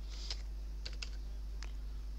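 A few light keystrokes on a computer keyboard while a search is typed, soft and close over a low steady hum, in brief clusters with pauses between them and no speech.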